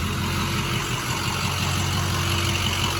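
A 2007 Ford F-250 Powerstroke diesel runs steadily close by, a continuous low rumble with a throbbing idle pulse and no voices.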